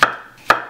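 A knife chops vegetables into thick rounds on a wooden board, two crisp, close cuts about half a second apart, with no talking.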